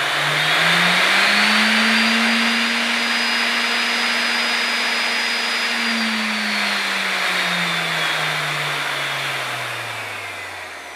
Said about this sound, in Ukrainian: Вмикаємо. Вона плавно набирає повільно оберти.